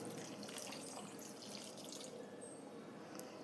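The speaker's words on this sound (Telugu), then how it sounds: "నాకు ఇక్కడ సరిపోలేదు కాబట్టి నేను కొన్ని వాటర్ వేసుకుంటున్నాను." Water is poured into a pot of cooking chicken curry, giving a soft, steady splashing stream that runs for a few seconds at low volume with no speech.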